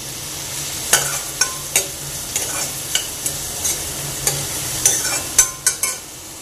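Chopped onion with green cardamom and a chili frying in a pan as the base for mushroom masala, with a soft steady sizzle and about a dozen sharp spatula scrapes and knocks at an uneven pace, no talking.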